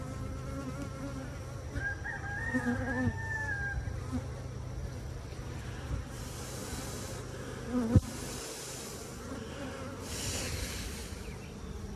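Constant low buzzing of many honeybees close by at a hive, with a faint rooster crowing in the distance and a brief knock partway through.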